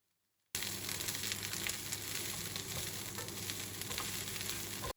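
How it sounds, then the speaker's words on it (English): Cubed tofu fries alongside bok choy, broccoli florets and carrot sticks in a pan, a close, loud, unbroken crackling sizzle that starts suddenly and stops abruptly. "I then fried some cubed tofu until they started to crisp up"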